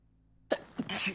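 A single sharp human sneeze bursting out of silence, close and fairly loud, followed by a short breathy exhale.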